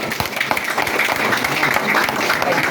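A church congregation bursts into steady, dense applause during a sermon, a continuous wash of many hands clapping at close range, with faint voices mixed in.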